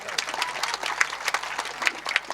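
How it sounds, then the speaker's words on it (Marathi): A crowd claps at a Shiv Jayanti kirtan gathering, producing a brief, fairly thin patter of hand claps with uneven bursts rather than a dense roar, heard up close. "तुमच्या टाळ्या कमी होत आहेत."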